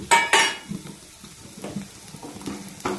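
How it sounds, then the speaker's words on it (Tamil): Cinnamon, cloves, fennel and kalpasi being sautéed in oil for a brinjal and dried fish curry: clattering pan and stirring knocks in short bursts over a faint sizzle, close and fairly loud, with no talk. "பட்டை ரெண்டு கிராம்பு நாலு சோம்பு கல்பாசி இதே எண்ணெயில் போட்டு நல்லா வதக்கணும்"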